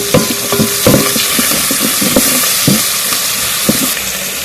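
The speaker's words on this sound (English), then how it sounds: "I'm going to go ahead and now fry this" Wild vegetables fry in a pot over golden-brown onions with a loud, dense sizzle. Sharp crackles and stirring knocks pop out every second or so, and no one speaks.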